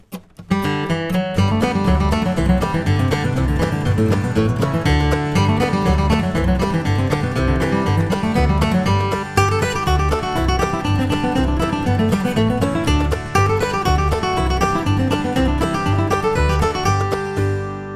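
A flatpicked acoustic guitar plays a quick, bright Blackberry Blossom melody up to tempo over a full backing track with bass and rhythm, loud and continuous throughout.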